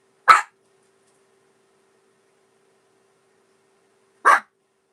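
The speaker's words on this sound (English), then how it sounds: "Dogs barking." Dogs bark twice in a quiet setting: one short, sharp bark at the start, then silence for about four seconds, then a second single bark.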